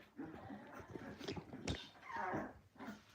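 Cane Corso puppies in Texas whimper and yip in short, uneven bursts close by, with a sharper cry near the middle and a longer whine toward the end.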